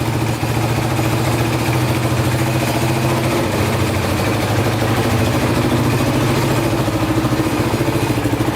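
A steady, low engine idle of a wrecked Yamaha Warrior 350 ATV chugs along evenly, close by and alone, with no voices over the rumble.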